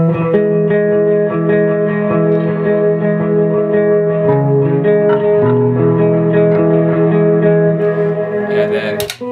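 Electric guitar run through a delay pedal, sustained chords and notes trailing into repeating echoes with a wide reverberant wash, played alone at a strong level before a brief sharp burst at the end.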